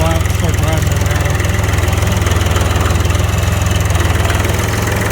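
A Case IH 395 tractor engine idles while it warms up, giving a steady, loud, close diesel throb with an even rhythmic pulse that lasts the whole stretch.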